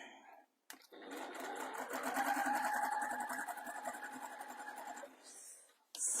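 A heavy sewing machine stitches a faux leather bag pocket along its bottom edge, running a steady close whirring, rapid needle rhythm for about four seconds after a brief start, then stopping with a short pause and restart.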